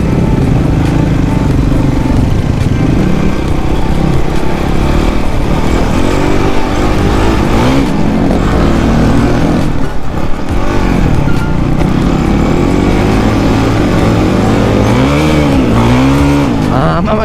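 A 400cc carburetted motorcycle engine revs loud and close for a long stretch, its pitch repeatedly swelling and dropping over a constant rumble.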